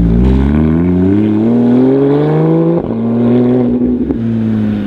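Porsche GT3 RS engine revs steadily upward in a loud, close, sustained howl, briefly dipping before climbing again, with no talk over it.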